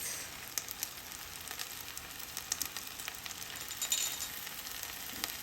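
Basmati rice stirred into hot, sizzling oil with spices in a pan, giving a steady close frying crackle with soft scraping pops throughout and no talk.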